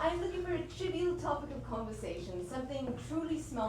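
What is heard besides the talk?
None of the usual background noises is heard.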